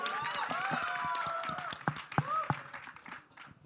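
Audience clapping at the grand teaser launch of the film Border 2, a brief patter of applause under a host's amplified voice and crowd chatter, fading out after a few seconds.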